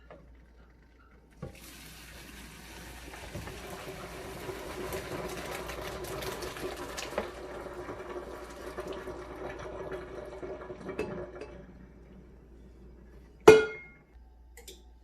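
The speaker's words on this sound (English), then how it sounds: "We're gonna take this over to a sink and we're gonna strain it." Boiled macaroni is poured into a strainer in a sink, with a long rush of draining water and splashing, followed by a sharp metallic clunk near the end.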